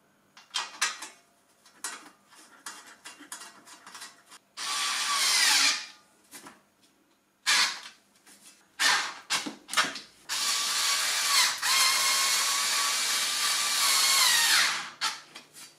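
A cordless driver fastens screws and nuts on the stand of a Parkside PKTS 2000 G5 table saw, with short whirring bursts and ratcheting clicks, two longer loud runs of driving, and handling knocks between.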